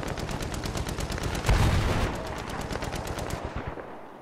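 Rapid automatic gunfire in the video game Battlefield 3, a fast loud stream of shots with a heavier burst midway, tapering off at the end.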